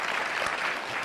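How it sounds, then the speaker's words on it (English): Brief burst of audience applause at a film industry symposium panel, a dense, even patter of many hands heard alone for about a second. "Thank you also for that unsolicited applause."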